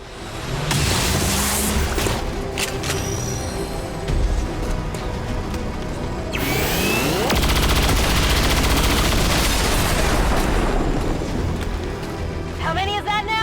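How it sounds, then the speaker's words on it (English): Rapid gunfire from two XCOM 2 soldiers firing together at one target in a Dual Strike, bursts of shots cracking over continuous game music and battlefield ambience, with a sharp sweeping effect midway and a fresh rattle near the end. "Then we'll use the special ability of the level 3 bond, Dual Strike, where both units take a shot at the target."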